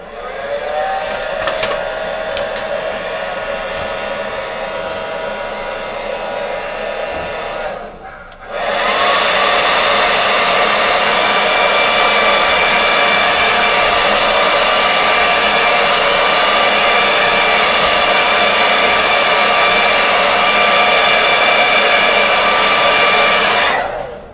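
A hair dryer blows steadily on a watercolour painting of a stag, a loud, even rushing roar that cuts out briefly partway through and then resumes, running alone without talk.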